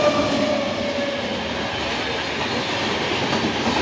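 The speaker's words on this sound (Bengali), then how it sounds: "কলকাতা হলদিবাড়ি এক্সপ্রেস" Kolkata Haldibari Express train passing at speed, a loud steady roar of rolling wagons with rhythmic clatter of wheels over rail joints, close by and continuous.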